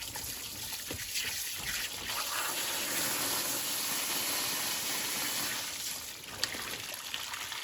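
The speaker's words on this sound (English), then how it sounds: "all the water is going to start coming out of the old house" Water pouring steadily out of old farmhouse plumbing as the lines are opened for winterizing, a continuous close rushing gush that holds for several seconds, with a small clank near the end.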